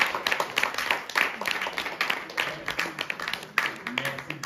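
Applause and clapping from a small audience at a French-speaking training graduation celebration, a steady patter of many hands held at moderate level for several seconds, with no talk over it.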